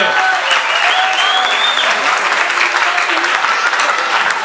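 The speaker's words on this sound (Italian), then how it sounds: "Tieni un applauso perché finalmente" Loud, dense audience applause at a live dialect comedy show in Cognola, Trentino, steady and continuous from close by, with a faint voice underneath.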